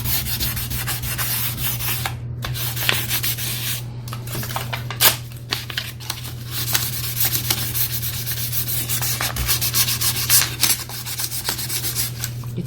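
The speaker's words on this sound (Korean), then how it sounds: "저는 없는 관계로 종이사포를 이렇게 사포를 하니까 색깔이 좀 많이 연해졌죠." Paper sandpaper is rubbed by hand over wood during an oil-stain coating job, a run of scratchy strokes with short pauses over a steady low hum, and no talking.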